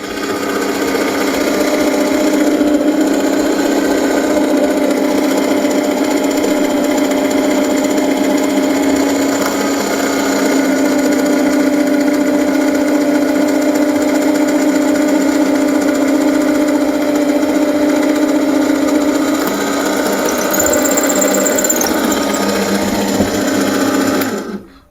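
A steady mechanical whine and hum of a drill press boring wood at low speed, continuous and fairly loud throughout, with a faint high squeal near the end.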